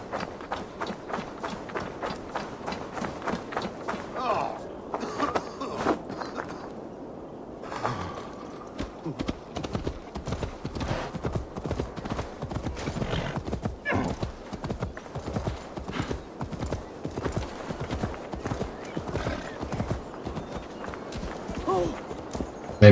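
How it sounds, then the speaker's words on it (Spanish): Rapid hoofbeats clatter continuously from a galloping horse in the video game Assassin's Creed Valhalla, with a whinny early on and sound effects layered over the running rhythm. "Caballo."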